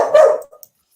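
A single close, loud dog bark, short and sharp, cutting off quickly into silence.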